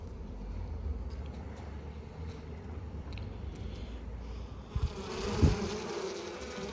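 Buckfast honeybees buzzing up close in a steady hum over brood comb, with a few louder fly-by drones and some handling bumps near the end.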